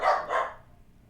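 An excited dog gives two quick, sharp barks close by, with nothing else sounding around them before a short quiet stretch.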